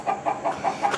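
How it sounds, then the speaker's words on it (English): Chickens cluck in a quick repeated rhythm, about five short calls in a second, fairly close and clear with no talking. "There's those chickens."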